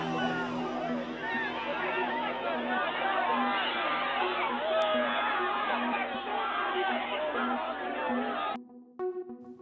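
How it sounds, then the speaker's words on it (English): A large crowd gathered around a fight at a school homecoming event, dense excited chatter and shouting voices all at once, loud and sustained, then cutting off abruptly near the end. "This is what happened later in the afternoon when the crowd gathered around a fight."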